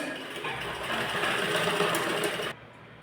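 A sewing machine runs steadily, stitching a net fabric blouse and attaching a cord, with a continuous close mechanical whir that stops abruptly near the end.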